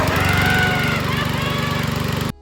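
A petrol lawn mower engine drones steadily and loudly with a fast, regular chugging pulse, running close by before cutting off abruptly near the end.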